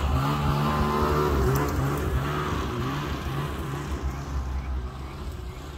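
A snowmobile sled idles and is driven a short way in a garage, backing mostly out of a trailer, its steady low engine drone loud and close throughout with a faint voice in the background.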